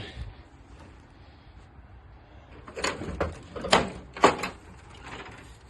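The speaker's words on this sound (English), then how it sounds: "this is going to hit my door when I open it" The door of a 3rd Gen Mega Cab long bed truck opens with a few clunky mechanical knocks and a latch release, fairly close over faint background noise.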